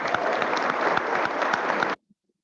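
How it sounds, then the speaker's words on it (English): Applause from a Rotary club meeting audience, a steady dense wash of many hands clapping loudly for about two seconds before cutting off abruptly into silence. "One more round of applause."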